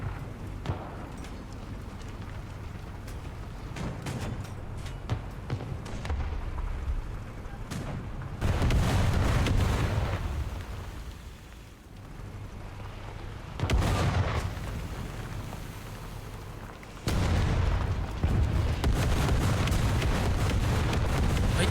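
Heavy artillery booms in the tank game War Thunder, heard as three or four loud, deep blasts spaced several seconds apart over a low rumbling engine drone.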